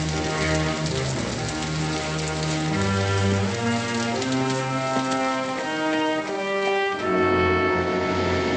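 Steady rain pours down at night outdoors in the frontier wilderness, a continuous hiss that stays even for several seconds while low musical tones play underneath.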